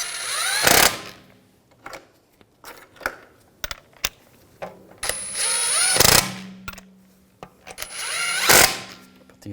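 Lug bolts snugged down on a 2007-2013 BMW 328i rear wheel with a ratchet, close bursts of fast clicking and short whirring tool runs separated by pauses, with no speech.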